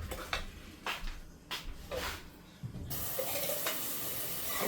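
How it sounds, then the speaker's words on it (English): Water from a can poured into a pot of Spanish rice, a steady rushing splash that turns into a continuous loud pour after some clattering and handling noises. "So I'm going to get 1 can of water and I'm going to add it right to this."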